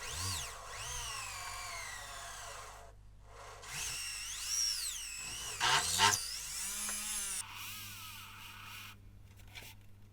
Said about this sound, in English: So with the portholes marked with the punch, I'll just drill them out now.